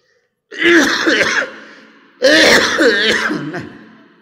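A man at a large outdoor religious gathering coughs hard twice, two loud close bursts of rough, hacking coughs about two seconds apart, each trailing off, with no talk over them.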